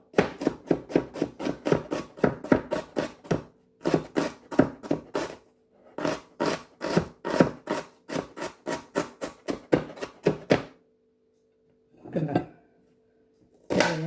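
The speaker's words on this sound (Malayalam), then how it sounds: "ഇതുപോലെ ഒരു സവാള മതിയാവും. അപ്പോൾ ഇതുപോലെ കുഞ്ഞതായിട്ട് അങ്ങോട്ട് കട്ട് ചെയ്ത് എടുക്കുക." Knife blade knocks sharply and quickly against a cutting board while an onion is diced into small pieces, close and crisp, in fast even runs broken by short pauses and a final few chops.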